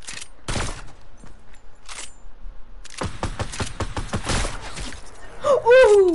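Several sharp gunshots ring out in a shooting video game, spaced irregularly in two bursts, loud and close, with brief game effects and quiet talk between them.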